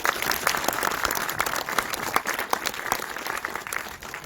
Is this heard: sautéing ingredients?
no